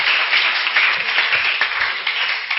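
A church congregation applauds Jesus with dense, sustained clapping from many hands, loud and continuous throughout, with scattered faint cheering mixed in.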